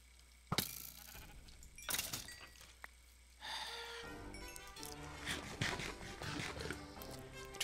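Sheep bleating in the Minecraft video game, several short separate bleats spread over a few seconds against faint in-game background sound, with no talking.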